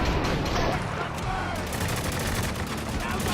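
Gunfire in the video game Spec Ops: The Line: a dense, continuous barrage of rapid shots and blasts, loud and unbroken for the whole stretch, with voices shouting over the combat.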